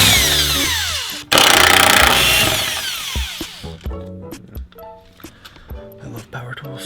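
A power tool, likely an impact gun, spins off 14 mm bolts from the subframe braces on a rusty S15, with a loud burst of whirring and rattling followed by sharp metallic clanks and ringing tones.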